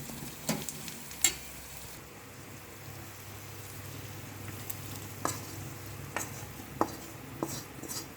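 Keerai spinach curry bubbles in a pot as a spoon stirs it, a soft simmering hiss broken by several sharp clinks and scrapes against the pot's side.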